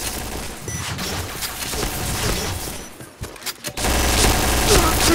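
Gunfire in the CrossFire video game, a dense automatic volley that rattles on loudly, breaks off into a few sharp separate shots, then resumes in a heavy burst of rapid fire.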